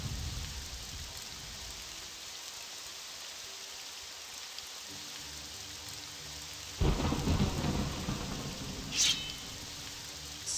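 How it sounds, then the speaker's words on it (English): Rain and thunderstorm in the video game The Elder Scrolls: Morrowind, steady hissing rainfall throughout with a deep rolling thunder crash breaking in partway and a short sharp burst soon after. "It's a very rainy island."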